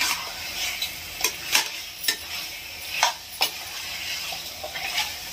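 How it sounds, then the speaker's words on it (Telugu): Green masala chicken frying in oil for a curry sizzles steadily in a pan, with repeated sharp stirring scrapes and clinks of a utensil against the pot recurring every second or so, close and fairly loud, with no voices. "ఇలా నూనెలోనే వేగాలండి మసాలా అంతా."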